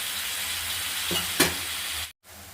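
Bitter gourd fries in hot oil with a steady close sizzle, a brief louder stir or clatter midway, then a sudden drop in sound near the end, with no talk.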